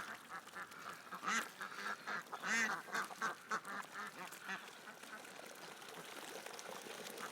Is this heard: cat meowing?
no